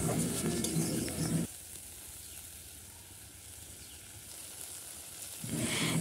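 Potato and eggplant frying with spices and salt in oil, a loud sizzle with stirring that drops to a quieter hiss in the middle, then swells again near the end.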